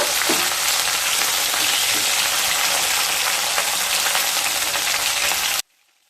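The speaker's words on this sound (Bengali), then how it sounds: "সজনে ডাঁটাগুলো হালকা ভাজা হয়ে গেছে, এবার সজনে ডাঁটাগুলোকে তুলে নেব।" Moringa drumsticks frying in hot oil give a steady, dense sizzle that fills the whole stretch at close range, with faint stirring clicks, before cutting off abruptly near the end.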